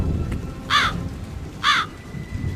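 In a cartoon, two harsh crow caws sound about a second apart, standing out over a steady low rumble of rain and storm noise.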